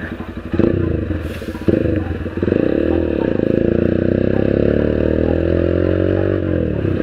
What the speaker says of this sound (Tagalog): Pero ito yung engine brake nitong GPR 250, suabing-suabe mga brothers.